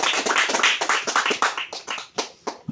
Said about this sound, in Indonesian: teman-teman yang lain berikan tepuk